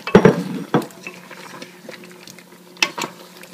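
Diced Yukon potatoes tumble into a pot of broth with a quick cluster of thuds and splashes, followed by faint bubbling and a later clink of a utensil against the pot.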